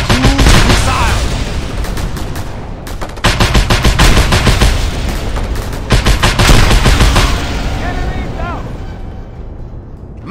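Mounted gun hammering out rapid automatic bursts in Just Cause 2, loud and close, with brief pauses between volleys and booming impacts mixed in.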